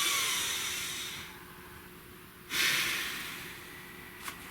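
Two long, deep breaths, each a loud airy inhale and exhale, close to the microphone with a pause between them, followed by a faint small click and no speech.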